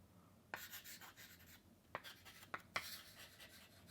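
Chalk or marker writing on a board, heard as soft scratchy strokes with a few sharper taps and squeaks, fairly quiet and close in an otherwise still room.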